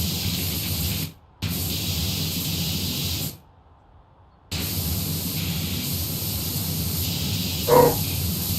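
A pressure washer in PowerWash Simulator sprays in a loud, steady hiss, cut by a brief pause and then a longer break before the jet resumes.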